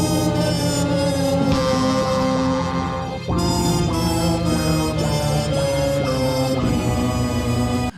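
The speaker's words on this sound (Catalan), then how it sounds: "Quan sona aquesta trompeta, aquesta melodia, en aquest cas bastant lenta i profunda" A slow, deep trumpet melody from the Dragon Ball soundtrack plays loud and steady over full backing music, with sustained notes and a brief dip near the middle.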